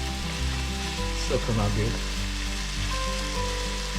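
Ketchup fried rice fries and simmers in a pan, giving a steady, moderately loud sizzle with soft stirring noises, while someone speaks briefly over it.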